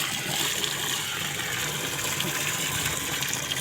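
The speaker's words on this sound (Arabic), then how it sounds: "هنصفي الميه الوسخه ونحط ميه نضيف لحد ما تنضف معانا خالص وتروق كده" Water gushes steadily as it is drained and poured over washed wheat grain, a continuous close splashing rush without pauses or talk.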